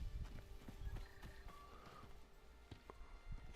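Horse in the video game Icarus: soft clip-clop hoofbeats and a brief whinny, faint and low against quiet game ambience.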